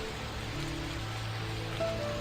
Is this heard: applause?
no